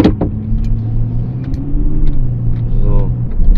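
A Mercedes CL 500 V8 engine, running in limp mode with no power, idles steadily and then takes throttle with a clear rev rising and falling near the end, heard close up as a continuous loud rumble with no talk.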